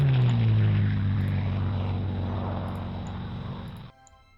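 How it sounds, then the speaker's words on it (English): Military aircraft in the WarPlan war game fly past as a loud, steady propeller-engine drone that fades gradually before cutting off abruptly near the end, with no talk. "Just have all of our planes start exfilling."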